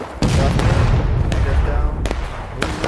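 Musket volley fire in the video game War of Brothers comes as loud, sharp cracks, several scattered shots over a few seconds amid a dense roar of battle noise.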